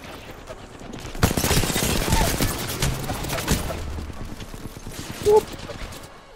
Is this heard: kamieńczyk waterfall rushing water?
no